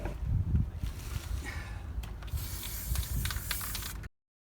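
Antifouling paint is sprayed onto a sailboat propeller during an annual lift-out, making a close, continuous hissing burst with faint clicks and handling noises before it cuts off abruptly.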